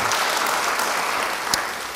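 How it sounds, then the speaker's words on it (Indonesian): A church congregation claps in a brief burst of applause, a close, continuous patter of many hands at even volume with one sharper clap near the end. "Yang percaya beri tepuk tangan bagi dia."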